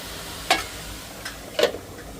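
Greens and curry sauté in a pan, a soft low sizzle broken by two or three sharp scraping stirs of a utensil against the metal, close and fairly quiet.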